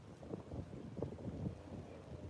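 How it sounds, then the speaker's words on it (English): Steady low rumbling wind buffeting a microphone at a beach, a continuous blustery roar with gusty swells and no voices. "It's very windy,"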